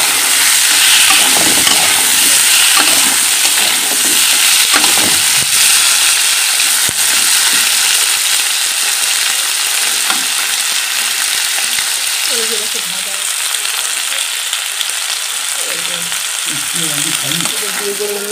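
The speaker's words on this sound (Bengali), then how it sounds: "আলু পেঁয়াজটাকে দিয়েছি, মানে এই যে ভাজছি আমি।" Potatoes and onions fry loudly in a pan while a Bengali mourola fish dish is cooked, giving a continuous sizzle with occasional stirring scrapes and brief faint sounds near the end.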